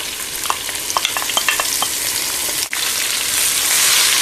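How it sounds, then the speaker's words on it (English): Ginger and garlic sizzling in a pan for goat curry, a steady hiss with a few stirring scrapes near the start, close and fairly loud, with no voices. "we're just waiting for the ginger garlic to get a little bit light brown"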